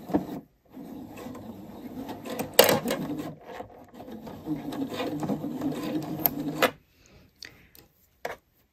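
A sewing machine stitches around a ribbed knit neckline with slight stretch on a shoulder button-placket garment, running in steady bursts of close, moderately loud whirring with brief pauses between runs.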